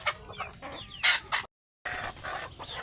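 Desi chickens cluck in short, irregular bursts, fairly close and moderately loud, with a brief silent gap partway through and no talking.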